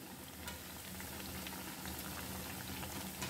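Sweet corn vada batter frying in hot oil gives a steady, dense bubbling sizzle that holds evenly at moderate level, with no voices.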